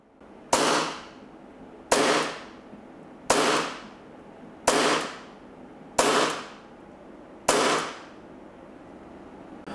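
Airsoft Hi-Capa pistol firing 0.2 gram BBs on green gas, six sharp cracking shots spaced evenly about 1.3 seconds apart, each with a short fading tail, close and alone.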